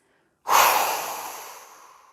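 After a held breath, a forceful exhale bursts out close and loud through the mouth, then trails off gradually over about a second and a half of breathy air.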